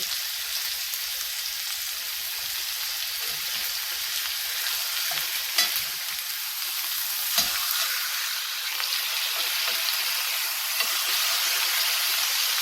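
Red-wine-marinated steak searing in a hot pan gives a strong, continuous sizzle and hiss, close and loud, with occasional sharper spits and pops.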